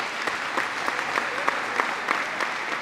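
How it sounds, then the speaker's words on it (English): An audience claps steadily and continuously for the coaches at a National Signing Day ceremony, a dense, even patter of many hands with no voices over it. "Let's give them a round of applause."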